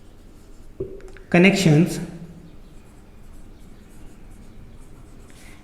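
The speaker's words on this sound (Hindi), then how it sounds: "सो इसको लिखेंगे" A marker squeaks across a board during a computer networking lecture on Ethernet cards and connectors, with a short burst of quick squeaky strokes lasting under a second. A lecturer speaks before and after the writing.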